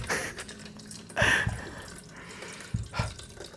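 Liquid poured while cooking broccoli and potato soup, heard as close, soft splashing and trickling in short surges.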